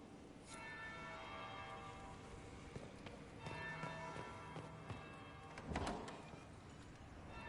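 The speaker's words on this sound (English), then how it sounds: "That would be the second bell." A church bell rings faintly in the distance, several soft strikes spread across a quiet, low-level background with a slightly stronger stroke near the end.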